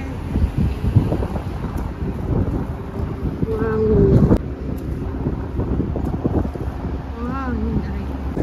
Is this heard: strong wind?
yes